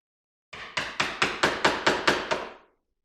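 A hammer strikes a screwdriver to knock copper windings out of a motor armature with fiberglass. Eight sharp, close knocks land in a steady rhythm with a brief ring after each, and no one speaks.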